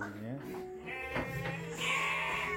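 A sick Garut fighting sheep, weak and paralysed, gives a wavering bleat close by, with a person talking over and around the call.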